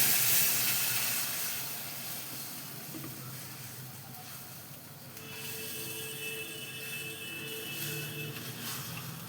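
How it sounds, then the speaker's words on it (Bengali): Water poured into a hot pan of boal fish curry with green chillies, producing a steady close hiss and sizzle that starts loud, eases for a few seconds, then swells again into continuous steamy bubbling. "এবার আমি জল ঢেলে দিচ্ছি।"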